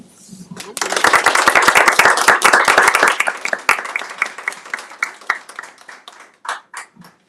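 Audience applause after a prologue reading at a book event, a dense burst of many hands clapping that swells quickly, holds, then thins into scattered claps and fades.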